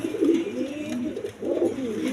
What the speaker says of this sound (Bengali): এক পেয়ার ব্ল্যাকলে শার্টিং কবুতর আছে